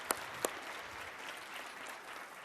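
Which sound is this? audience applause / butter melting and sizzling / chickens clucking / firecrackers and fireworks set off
audience applause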